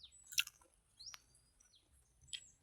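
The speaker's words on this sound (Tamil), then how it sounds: "இதான் ஃப்ரெண்ட்ஸ் நம்மளோட குருவி" A sparrow gives three or four short, sharp chirps spaced apart over a very quiet background, each call brief and fairly faint.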